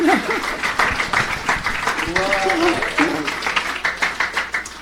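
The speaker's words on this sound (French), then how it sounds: "Est-ce qu'on peut applaudir le Seigneur?" Church audience applauding, a steady wash of clapping running the whole way through with voices calling out over it.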